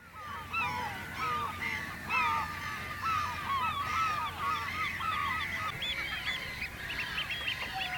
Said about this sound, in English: Ducks going past.